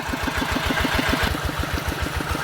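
A Kubota 9.5 hp single-cylinder engine driving a water pump, thumping in a fast, even beat up close, loud and steady with no talk.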